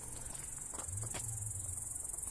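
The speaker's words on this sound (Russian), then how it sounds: "Слышь, как громко кузнечики стрекочут." Grasshoppers chirp loudly and continuously along a riverside meadow with thistles and birches, a dense high-pitched buzzing stridulation with faint soft pattering underneath and no talking.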